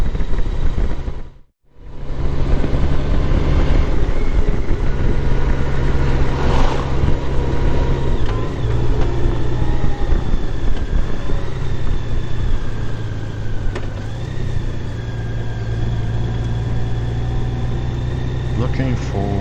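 A car drives a bumpy rural road near gravel with a loud, steady engine and road drone inside the cabin, while a person talks over it.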